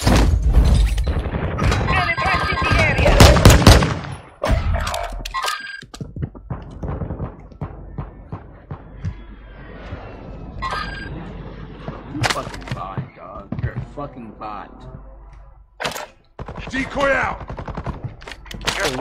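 Rapid automatic gunfire in a multiplayer shooter game, with dense loud bursts up front, then scattered shots, impacts and booms, with a player's voice talking over parts of it.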